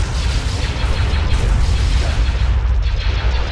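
Naval guns on warships in the Empire at War space strategy game open fire, giving a dense, sustained wall of low booming and rumbling blasts with steady loudness and no clear gaps between shots.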